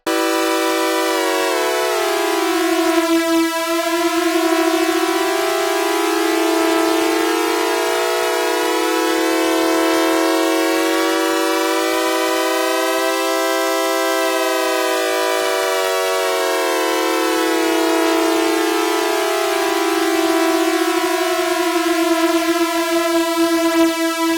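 A dense, buzzing synthesizer drone from an eight-voice synth with voices spread and detuned, many warbling layers sliding slowly up and down in pitch, loud and continuous throughout.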